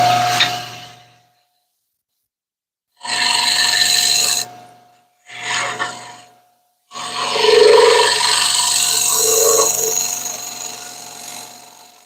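A cherry wood platter scraped on a lathe, taking off very thin cuts: raspy bursts of scraping broken by silent gaps, close and fairly loud, with no talk.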